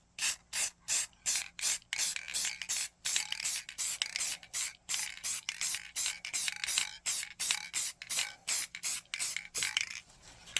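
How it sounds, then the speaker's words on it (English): Matte gray spray paint hisses from an aerosol can onto the handrails of an Athearn GP35 model locomotive, a rapid series of short, loud bursts with brief gaps between them, heard alone without talk. "I'm just going to spray the handrails gray."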